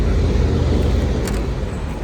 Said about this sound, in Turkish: Otobüs geçiyor.